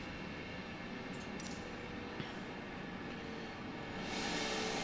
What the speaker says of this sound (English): Because now that APU noise is going to go away.